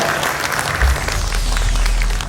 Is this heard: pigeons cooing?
no